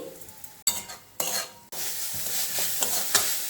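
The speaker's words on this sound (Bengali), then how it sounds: "এবার লো ফ্লেমে চিকেন কিমাটাকে সুন্দর করে রান্না করতে হবে।" Chicken mince cooking over a low flame in a pan, stirred in short bursts: scraping strokes and a soft sizzle broken by brief pauses, then a steadier sizzle with repeated stirring scrapes, close and clear, with no talking.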